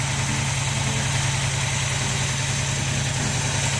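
A project engine idles steadily while it warms up, a constant low rumble with even vibration, close by and without any talk.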